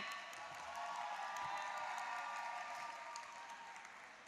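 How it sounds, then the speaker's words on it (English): Applause fills a graduation ceremony hall, a dense even patter of many hands clapping together with a few faint cheers, heard from some distance and gradually thinning. "Big round of applause for everybody."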